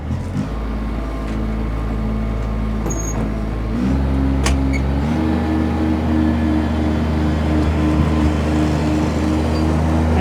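A 2014 Kubota ZD331 72-inch 31 HP diesel zero-turn mower with hydraulic lift cranking over and firing up, the engine then settling into a loud steady diesel idle close by, no talk.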